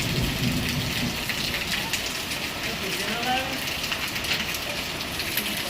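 Sudden heavy rain pouring down outdoors at a villa, a steady, loud hiss of water on surfaces throughout, with people talking over it.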